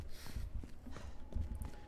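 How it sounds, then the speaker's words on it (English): Running footsteps in the Resident Evil 2 remake, a quick run of low thuds pacing across the floor, fairly close and moderately loud, with faint background game ambience. "You hear my footsteps?"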